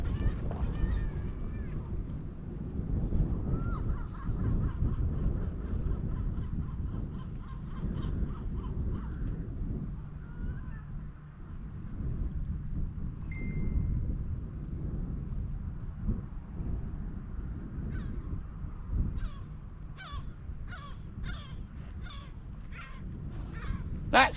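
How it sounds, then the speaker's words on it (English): Seagulls cry repeatedly by the sea on a salt-water fishing bank, harsh calls coming in bursts, clustering near the end, over low wind and water rumble. "That's the seagulls you can hear."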